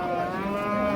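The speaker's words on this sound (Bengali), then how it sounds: "এখানে একটা গাভী দেখছি" A six-tooth Shahiwal-Sindhi cow at a Noakhali cattle market gives one steady, sustained low moo, close and loud, with no talking.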